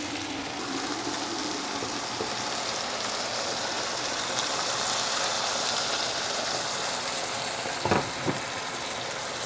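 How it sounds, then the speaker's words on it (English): Hot water poured into a pot of sizzling Iranian vegetable stew, a steady frying hiss and bubbling that swells midway, with a couple of brief clinks near the end and no talk. "now is the time for adding a little bit of hot water"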